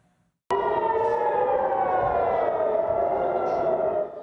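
An air raid siren starts abruptly after a moment of quiet and wails loudly in a sustained tone, slightly falling in pitch, heard from a distance.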